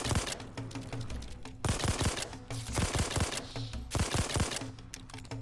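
Burst-fire gun in a video game shooting in quick, loud groups of rapid shots, several bursts in a row, with steady game music humming underneath.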